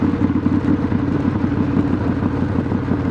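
Steady, continuous motorcycle engine drone with a low rumble, close and fairly loud, heard while riding and leaning through curves, with no talk over it.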